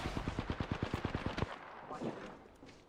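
Gunfire in the video game Apex Legends: a rapid, evenly spaced burst of about a dozen shots, fairly close and loud, that stops abruptly and leaves faint background noise.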